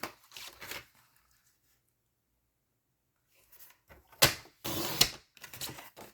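Gorgeous Grape cardstock being trimmed for a card, with short scraping cuts and clicks separated by a long silent gap, quiet and close.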